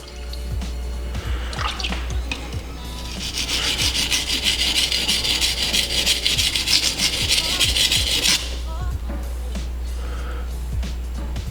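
Knife tip being reshaped on a 220 grit sharpening stone, gritty rhythmic rubbing strokes that build into a sustained rasping scrape for several seconds, then ease back to lighter, sparse scrapes.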